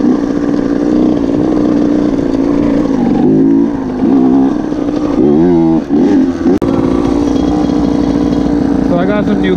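A Honda CR85 dirt bike engine on a trail in Toronto drones loudly and continuously, with the revs rising and falling in several surges throughout.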